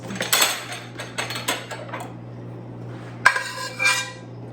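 A metal spoon clinks against a pan of browning butter in a home kitchen, with a quick burst of clinks and clatter at the start and another sharp tap near the end, over a steady low hum.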